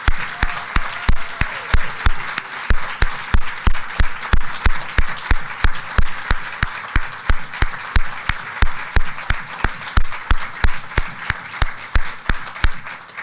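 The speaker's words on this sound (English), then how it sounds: "Let's give one more round of applause to all of today's award recipients." An awards program audience claps for the day's recipients, a large crowd's continuous applause with a strong, steady rhythmic beat of unified clapping running the whole time, loud and sustained.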